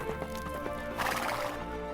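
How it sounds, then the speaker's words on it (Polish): A horse sound effect: rapid clip-clop hoofbeats of a gallop, then a loud, wavering neigh rising in the middle, close and clear with no talking. "Wsiadła na konia i opuściła zamek."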